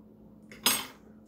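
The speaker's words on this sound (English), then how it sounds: "I'm gonna go ahead and dock the surface with a fork" A single quick scrape and tap as a fork pierces the surface of an unbaked canola oil pie crust, close and faint, in a quiet kitchen.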